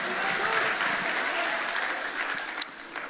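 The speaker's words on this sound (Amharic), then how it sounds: "እንደገና አጨብጭቡለት" Congregation at a church service applauding together, a dense steady roar of clapping that holds throughout at fairly close range, with a few sharper individual claps standing out near the end.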